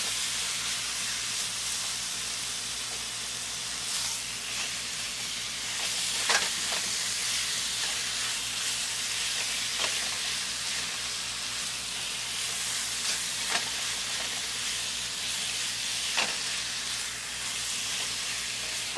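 Chicken breast sizzles in a little oil in a pan, a steady close hiss with faint crackles and occasional sharper pops throughout, no talking.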